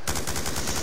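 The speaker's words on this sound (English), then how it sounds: "Why does he keep firing his gun?" Rapid automatic gunfire in Call of Duty Black Ops 2, a fast regular burst of loud shots in quick succession, heard close with no talk.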